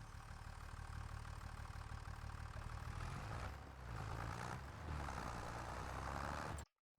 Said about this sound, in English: Why is this tractor struggling so much?